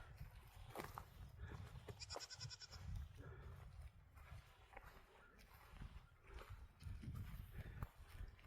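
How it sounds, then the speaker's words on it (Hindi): Sheep and goats grazing in open hill country, a few distant bleats over low outdoor rumble and shuffling, with faint voices in the background. "और ये देखिए भेड़ बकरी चरती हुई।"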